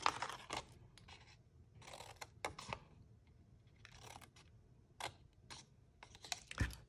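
Scissors trimming small paper card tabs for a Christmas stamped card project, several short, quiet snips spaced irregularly with soft paper rustles between them.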